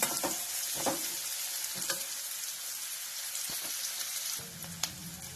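Onion for aloo poha fry vada sizzles steadily in hot oil in a pan, close and continuous frying with occasional stirring scrapes and clinks.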